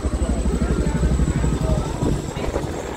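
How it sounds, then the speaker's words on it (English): Military rescue helicopters pass overhead above rough seas on a dolphin-watching cruise, a steady low rotor chop thudding continuously throughout, with wind and water noise mixed in. "Rescue helicopters flying above us."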